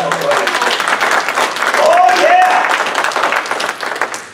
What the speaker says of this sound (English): Give the Lord a hand and clap away.